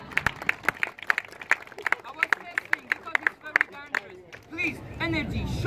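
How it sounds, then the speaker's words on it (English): Street performer's audience clapping along in Amsterdam, sharp hand claps landing in a rough rhythm among murmuring crowd voices before the clapping thins into babble. "Usually people clap."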